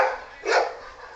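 Dogs barking out in the street, a single sharp bark rising over a steady background hum, fairly close and loud.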